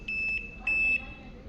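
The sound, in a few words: Voltas Beko top load washing machine beeping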